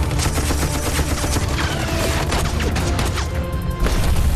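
Tanks and small arms fire on a war-film battlefield in a dense, continuous barrage, with rapid gunfire crackling over a deep, rumbling bed of explosions that stays loud throughout.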